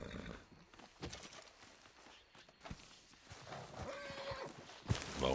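A horse in Red Dead Redemption 2 snorts and whinnies as it is revived, with hoof thuds and shuffling steps on the ground, the whinny rising clearly near the end.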